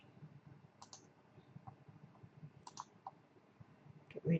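A computer mouse clicks a few times during path editing on a computer, small sharp taps close up and fairly quiet, spaced irregularly, with faint keyboard-like ticks.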